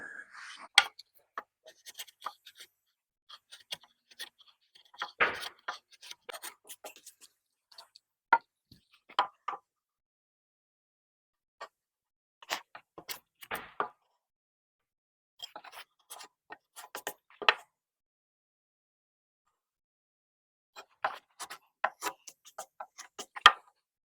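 A mortise is cut into a timber frame beam: intermittent clusters of sharp, dry ticks and scraping taps come in short bursts separated by pauses, fairly close and fairly quiet, with no talking.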